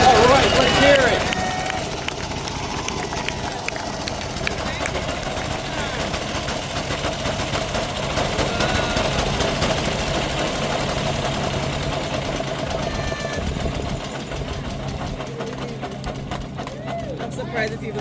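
A 1906 Orient car, built in Waltham, Massachusetts, runs at a classic car festival, its old engine chugging and rattling steadily for a long stretch while people talk nearby.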